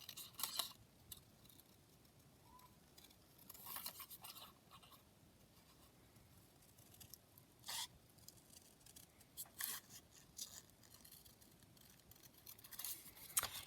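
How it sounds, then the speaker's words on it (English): Scissors snip around a paper teacup shape at a quiet indoor craft table, with soft, scattered crisp cuts spaced irregularly over a faint background. "Right, just going to cut this teacup out."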